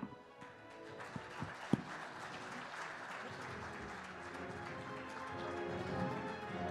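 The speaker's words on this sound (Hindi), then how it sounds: "जोरदार तालियां हो जाए" Sustained applause from a crowd at a TV9 Satta Sammelan 2024 session, steady clapping that builds slightly toward the end, with a few sharp claps near the start.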